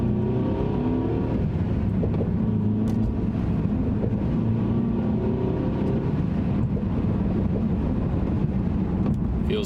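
Mercedes C300 W205 with an upgraded diverter and blow-off valve accelerating, a steady loud engine drone that swells and rises in pitch through gears, continuous and close from inside the cabin.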